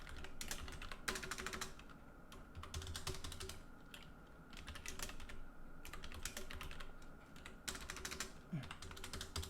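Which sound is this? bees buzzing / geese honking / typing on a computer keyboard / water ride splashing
typing on a computer keyboard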